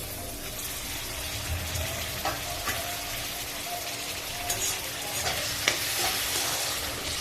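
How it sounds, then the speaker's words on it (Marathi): Onion and tomato sautéing in a pan for a dried fish and brinjal curry, a steady close sizzle with scraping stirs and small spatula knocks throughout, no talk. "टोमॅटो पण चांगला परतून घेते"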